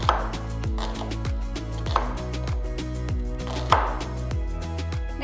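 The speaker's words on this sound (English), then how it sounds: "Remove the skin, roughly chop the onions and keep it aside." Knife roughly chopping onions for salsa, a brisk run of crisp thuds on a cutting board, about three per second, close and alone without talk.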